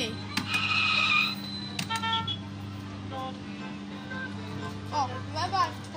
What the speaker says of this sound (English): This is the photo me Noddy kiddie ride.